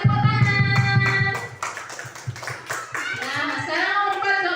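A group of schoolchildren in a classroom claps together in a quick rhythmic pattern of sharp slaps, mixed with children's voices and singing-like chanting over the clapping.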